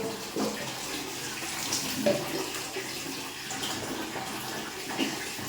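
Water poured and splashing during a cold morning bath, a continuous moderate splashing wash with small irregular bursts throughout.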